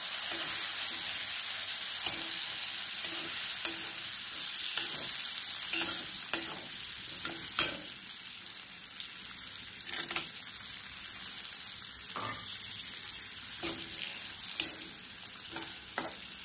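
Soaked peanuts and dal sauté in a pan, giving a steady hiss of frying with regular scraping and clinking of a spoon stirring close by. No voices are heard.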